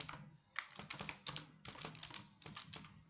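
Computer keyboard typing code in quick clustered bursts of close, crisp key clicks with short pauses between groups.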